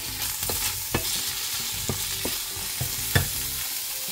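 Sliced courgettes frying in olive oil with garlic, a steady sizzle broken by several scraping, knocking stirs of a utensil in the pan, close and fairly quiet, with no voices.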